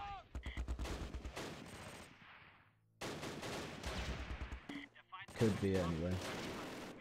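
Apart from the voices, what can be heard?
MG42 machine gun fire in Close Combat video game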